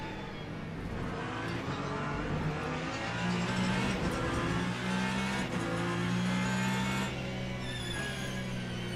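Hypercar engines in a Le Mans Ultimate race at Monza, a steady loud drone of several racing cars with rising and falling engine pitch throughout, no voices.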